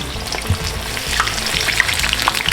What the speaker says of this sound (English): So we're going to take these and gently place it in the oil.